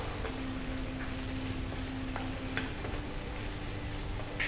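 Prawns fry in ghee with a steady, even sizzle and faint crackle that fills the pan, close and moderately quiet, with occasional small pops and no talking.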